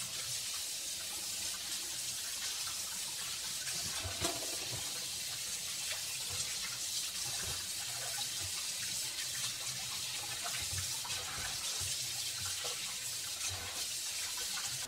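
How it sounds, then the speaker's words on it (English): Tap water runs steadily and loudly into a sink as charred grilled pineapple is rinsed, a constant hissing gush with faint splashes and no talk. "So I'm gonna see if I can rinse that black stuff off."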